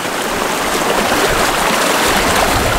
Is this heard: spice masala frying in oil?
no